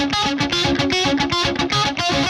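A heavily overdriven electric guitar through an amp simulator, with bright, crunch and overdrive switches on, plays a choppy, rhythmic pop-punk riff of crunchy palm-muted chords, loud and up front with no voices.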